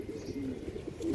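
Racing pigeons coo softly nearby, a brief low murmuring call in a quiet space.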